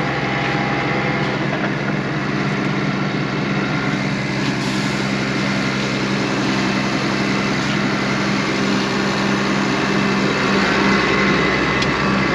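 A New Holland T6 tractor engine with a computer fault cutting its power runs at a steady, loud drone throughout, with a constant low hum and mechanical whine and no talking.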